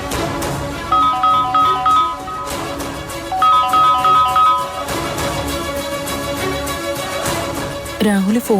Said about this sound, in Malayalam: രാഹുല് ഫോൺ എടുക്കുന്നില്ലല്ലോ.